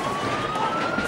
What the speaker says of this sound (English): Christchurch is filled with the sound of sirens this afternoon